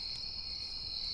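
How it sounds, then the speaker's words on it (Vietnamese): Crickets chirping in the horror game Killer Caty: a steady, high, continuous trill over faint ambient hiss, alone and unbroken. "Được nghe tiếng dế kêu mấy fan"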